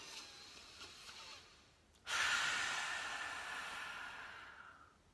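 A single deep breath, a long, rushing exhale that starts abruptly and slowly fades over a few seconds, close and fairly quiet, with no speech.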